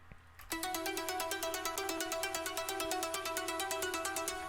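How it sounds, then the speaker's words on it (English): A dark, repeating synth arpeggio pulses in steady, evenly spaced notes after a brief quiet lead-in, sustained and fairly loud with no voices. "So yeah, really dark kind of sounding ARP."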